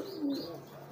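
A pigeon in a coop gives a single soft, low coo, brief and fairly close in a quiet space.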